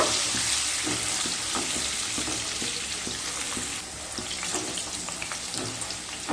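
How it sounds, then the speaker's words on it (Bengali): Potatoes fry in hot oil until light brown, giving a close, steady sizzle with frequent small pops and light stirring scrapes. "এবার আলুগুলোকে হালকা ব্রাউন কালার করে ভেজে নেব"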